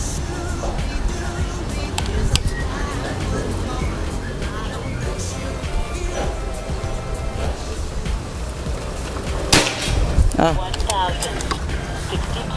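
A PCP Predator air rifle with a slug barrel fires a single slug pellet outdoors: one sharp, close crack standing out from steady background noise and murmuring.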